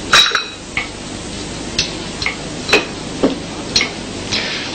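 Dishes and cutlery clink and clatter at a home table as plates are cleared, a string of sharp, separate knocks about every half second, fairly close, with no talk.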